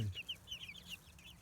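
Several chickens cluck softly in quick, repeated bursts, close by, with a quiet outdoor background and no talking.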